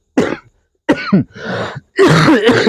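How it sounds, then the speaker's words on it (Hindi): A few harsh, throaty coughs in quick succession, loud and close, with short pauses between the bursts. "खांसी हो रहा है"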